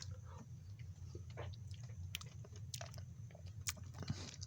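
Crunchy lumps in chocolate pudding from a military field ration being chewed close up, a steady run of soft wet bites and small crunches over a low hum, with no talking.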